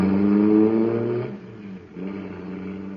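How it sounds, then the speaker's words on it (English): A radio-drama effect for a supercharged cosmic surface car: a harmonic engine roar, loud at first, that dips and then settles into a steadier, softer drone. "that cosmic surface car is really roaring"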